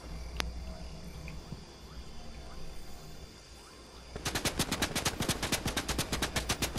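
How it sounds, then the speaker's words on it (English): Rapid bursts of video game gunfire in a team shooter match, a steady rhythmic string of sharp shots starting partway through and continuing loud to the end after a quieter stretch. "He doesn't realize he's shooting at his partner."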